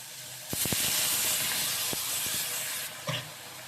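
Water poured into tomato masala frying in a wok bursts into a loud, steady hissing sizzle that runs for over two seconds with a few sharp pops and clinks, then cuts off.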